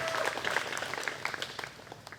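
Spectators at the 2021 Discraft Great Lakes Open disc golf tournament clap for a birdie on hole 6. The applause is scattered and moderate, with no talk.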